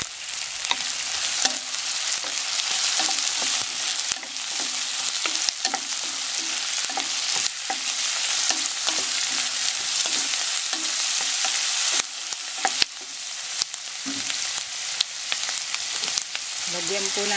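Shrimp stir-frying in a pan gives off a loud, steady sizzle, with repeated sharp scrapes and taps of a utensil against the pan throughout.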